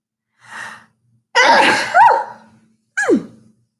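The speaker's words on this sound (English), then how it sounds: "I'm going to sneeze." A sharp inhale and gasp build into a loud, close sneeze, followed by a second smaller sneeze-like burst.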